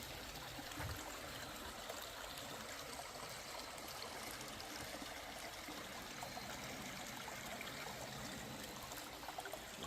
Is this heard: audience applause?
no